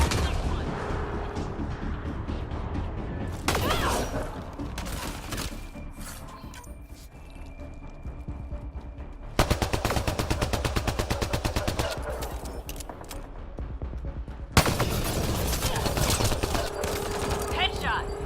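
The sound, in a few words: gunfire in the video game Mass Effect Andromeda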